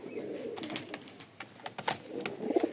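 A pair of Rajshahi tiger giribaz pigeons in a loft coo softly and intermittently, low murmuring calls rising near the end alongside faint rustling.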